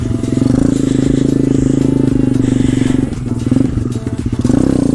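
A pit bike's small engine runs steadily as it is ridden, a loud, close buzzing drone that holds a constant pitch with slight wavering throughout.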